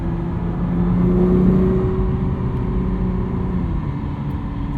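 A 2021 Nissan GT-R Premium accelerating hard from inside the cabin, its turbocharged engine rising in a loud, steady drone as boost builds, then easing off toward the end.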